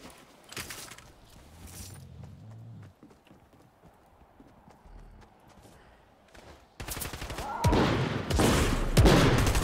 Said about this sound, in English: They were shooting with the shotgun.